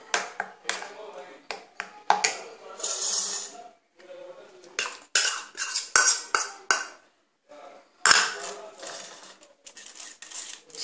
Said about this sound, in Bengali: এটাকে ভালো করে আমি ছেঁকে নেবো একটু জল মিশিয়ে, ছাঁকনিতে করে ছেঁকে নেবো